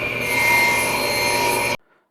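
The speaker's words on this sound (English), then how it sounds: "I started out cutting the front and back pieces by setting my table saw fence to 5 inches" A table saw cross-cuts wood pieces for a bird house against a fence and stop block, a steady loud whining cut that stops abruptly near the end.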